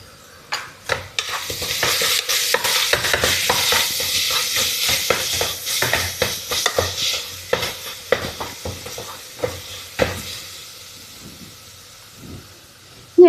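Ginger and garlic paste frying in ghee and coconut oil, a steady sizzle under repeated scraping stir strokes that thin out toward the end, close and fairly loud with no talking.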